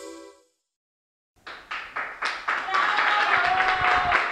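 Audience applause on a regional music TV program: after a short silence, a few separate claps build quickly into dense, sustained clapping from a nearby crowd.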